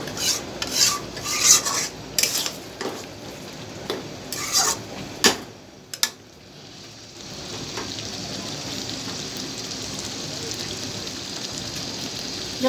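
Beef brain curry scraped and stirred in a pan with a spatula: a run of rasping strokes with pot clatter, then a steady soft sizzle as it cooks on.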